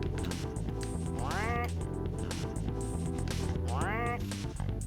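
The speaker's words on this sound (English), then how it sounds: "it just has to quack its way over there" A cartoonish duck in the video game Chibi-Robo quacks twice, each a rising nasal honk, over steady game music and background sound.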